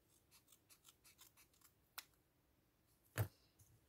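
Small scissors cutting paper in a crafting session, a quick run of faint, rhythmic close-up snips, then a single sharp snap and a louder clack a moment later.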